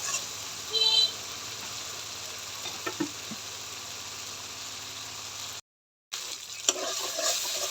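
Spice masala being stir-fried in a pan, a quiet steady sizzle with a few scraping stirs and knocks, briefly cutting to silence before resuming, close and faint, no speech.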